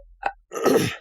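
A single sharp human sneeze, a brief intake followed by a loud burst, close and alone.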